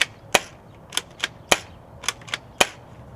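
A Black Water SMG spring BB gun fires seven sharp, snappy shots at an uneven pace, each one a crisp click-pop heard close by, with quiet between the shots and no voices.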